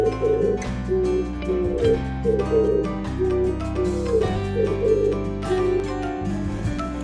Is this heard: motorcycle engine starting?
no